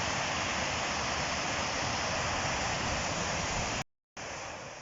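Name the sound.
fast-flowing water of the River Afton at the dam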